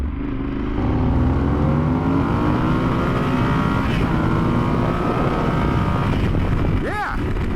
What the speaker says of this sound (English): you can really hear that 270 crank parallel twin, and it sounds really cool.